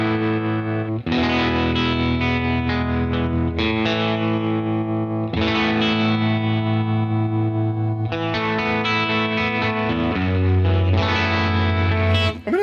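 An electric guitar played through a tremolo effect rings out sustained chords with a driven, chorused tone, loud and close, in phrases separated by brief gaps.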